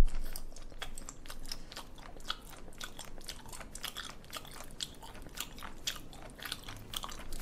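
Close, wet chewing and biting of raw spoon worm (gaebul), a soft, chewy seafood, with many quick crunchy bites in a steady rhythm and no talking.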